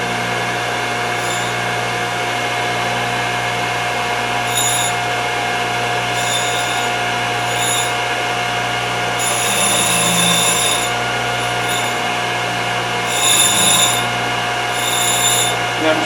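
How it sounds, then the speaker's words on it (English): A Thorvie AV-40 sharpening machine motor running steadily with a constant mechanical hum and whine, interrupted by occasional higher-pitched bursts of grinding contact on router bits or shaper cutters. "So I'm going to turn my motor on here."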